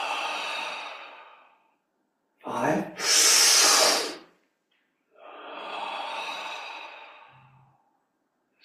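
Slow, breathy exhalations during a Taoist yoga breathing exercise, several long airy outbreaths close to the mic separated by quiet gaps, one sharper forceful burst in the middle.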